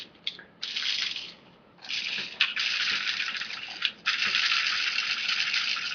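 Metal BBs for a BB gun clatter and rattle in bright, close, jingling bursts, with a few short pauses between the pours and no talking.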